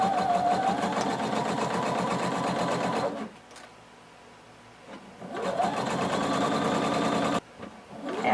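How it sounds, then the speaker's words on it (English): Sewing machine stitching the seam of a tank top with 5/8 inch seam allowance, a close rapid mechanical whir in two bursts separated by short pauses, with a faint hum in the gaps and no talking. "we're going to sew until we get to our dot."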